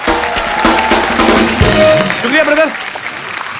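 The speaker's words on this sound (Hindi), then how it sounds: "सैमी के लिए जोरदार तालियां।" A studio audience at a comedy talk show claps loudly in a dense, sustained burst, with music and someone briefly speaking over it as the applause fades.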